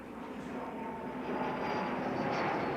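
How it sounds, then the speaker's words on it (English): Aircraft passing overhead under a jet flight path near a roadside barbecue spot, a steady, fairly faint broadband engine roar that holds constant throughout. "under the flight pattern for jets"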